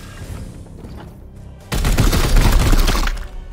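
Video game gunfire from Warhammer 40,000: Chaos Gate - Daemonhunters, a sudden loud burst of rapid shots striking a unit, following a quieter stretch and lasting over a second before tapering off.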